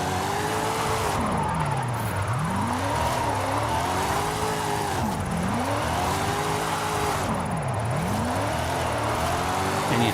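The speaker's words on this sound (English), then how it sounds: "Wow, this truck is awesome," A truck engine driving in Forza Horizon 5, a loud continuous drone that rises and falls in pitch as it revs through gears, steady and close throughout.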